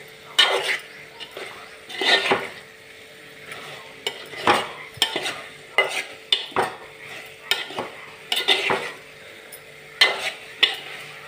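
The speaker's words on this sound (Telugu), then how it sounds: "ఇంకా ఇప్పుడు స్టవ్ని కొంచెం మీడియం ఫ్లేమ్లో పెట్టుకుని 1 నిమిషం వేయించి స్టవ్ ఆఫ్ చేస్తా" Curry fries in a pan on a stove, with a spoon scraping and clinking against the metal in repeated irregular strokes over a soft background sizzle.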